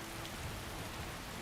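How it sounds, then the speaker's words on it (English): Rain in Skyrim falls as a steady, close hiss of drops on surfaces, constant and unbroken for the whole stretch, with no speech. "I'll just wait for this rain to pass"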